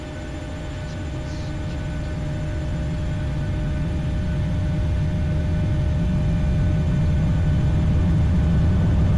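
Boeing 737 engines spool up for takeoff in a flight simulator, a steady low roar and rumble that grows slowly louder throughout, with faint whining tones above and no talking.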